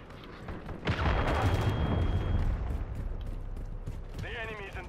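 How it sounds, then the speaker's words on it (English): Cruise missile strike in Call of Duty: MW3, a loud explosive blast and sustained rumbling boom with a thin tone fading out, followed by chirping radio-like warbles near the end. "Cruise missile deployed."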